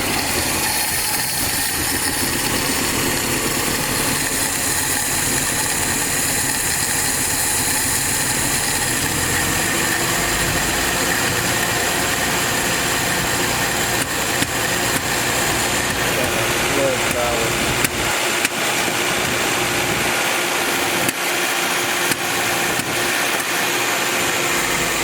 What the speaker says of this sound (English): that carburetor's loading up. With the choke on, it was running good.